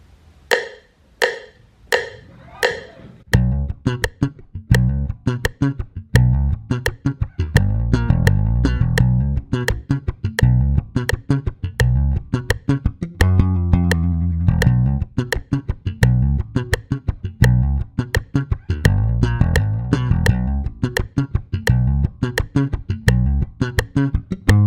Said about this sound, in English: let me just put on a metronome